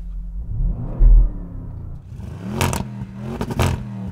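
A car engine rumbles and climbs in pitch, then revs hard twice in loud, rising bursts with a throaty, crackling roar.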